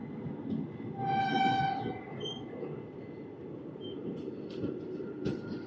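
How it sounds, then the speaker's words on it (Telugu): The Circar Express rolls along the line past a station, with a steady low rumble of wheels, a sustained horn blast early on, and a few sharp squeals and clanks, heard from inside the train. "ట్రైన్ ఇప్పుడే చీరాల స్టేషన్ అయితే దాటింది"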